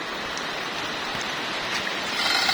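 Steady rain falls throughout, a dense even hiss with scattered drops, close and fairly loud, with no talking.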